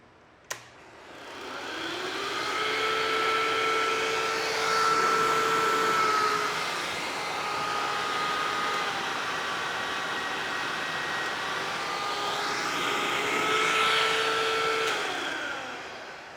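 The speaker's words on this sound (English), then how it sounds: "you saw that it was able to turn on the vacuum cleaner, handle the inrush" A household vacuum cleaner powered from a sunlight-only solar backup system starts with a sharp click and then runs as a steady, loud whine and whir, its pitch rising and dipping slightly for about sixteen seconds with no talking.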